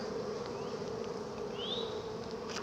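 Honeybees buzz around hive frames, making a steady close drone with several individual bees whining past louder for a moment.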